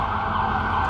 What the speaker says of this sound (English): And it's an ambulance.